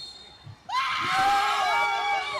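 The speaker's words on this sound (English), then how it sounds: "You can hear the screams of joy, exhilaration for Kerala." Crowd at an under-17 football match cheering and screaming with joy as the final whistle nears, a sudden loud swell of many high voices that holds steady after a brief quiet moment.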